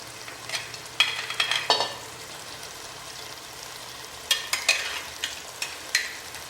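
Mutton pieces are stirred into masala frying in pure ghee in a pan for white mutton korma, giving bursts of close scraping and clatter over a soft, constant sizzle.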